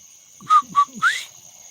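A person whistles an imitation of a whippoorwill's song, giving three short, clear, rising notes in quick succession, close and fairly loud, with a faint steady hum underneath.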